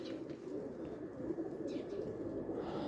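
Turtle doves or pigeons coo softly during an outdoor bird hunt, with a steady low murmur that stays fairly constant throughout and no voices.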